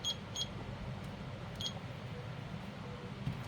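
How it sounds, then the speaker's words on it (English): Kitchen timer beeping as it is set during a resin crafting session, a few short, high, thin beeps spaced apart over low background hum, with no voices. "Let me set a timer here."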